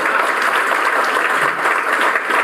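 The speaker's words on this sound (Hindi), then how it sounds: "ताली बजा दो" Audience at a motivational seminar on achieving goals breaks into dense, steady applause, loud and sustained throughout with no voices over it.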